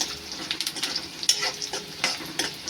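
Onion fries in a pan for mushroom masala, a close hiss of sizzling broken by repeated scraping stirs and soft clinks of a utensil against the pan.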